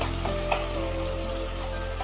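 Two medium chopped tomatoes frying in hot oil in a pan for baingan bharta, with a steady, dense sizzle throughout and a few soft stirring knocks, close and without talk.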